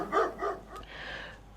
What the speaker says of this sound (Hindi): अगर पड़ोसी का कुत्ता भी भौंक रहा है ना